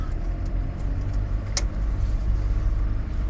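Steady low rumble of a car driving on a road in freezing winter weather, continuous engine and tyre drone close inside the cabin with a brief faint click, no talk.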